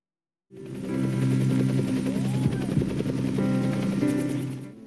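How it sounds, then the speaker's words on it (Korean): A helicopter air taxi flies over Seoul's Jamsil Han River Park, its rotor throbbing loud and steady with a rhythmic thumping chop, heard alone without any talking. "그 전 단계인 이른바 헬기 택시가 먼저 운행에 들어갑니다."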